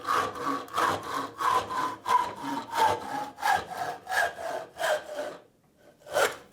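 A hand saw cuts through material in steady back-and-forth rasping strokes, about a dozen in a row, then a short pause and one last stroke.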